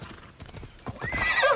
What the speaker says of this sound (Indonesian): Kita panggil dulu si kuda kesayangan kita.